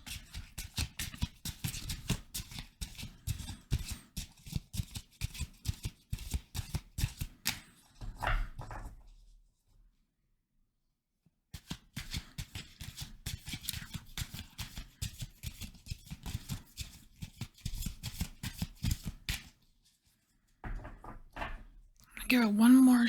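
Tarot cards shuffled by hand in a rapid, crisp riffle of flutters in two long bursts separated by a brief pause, close and fairly quiet, with a voice speaking near the end.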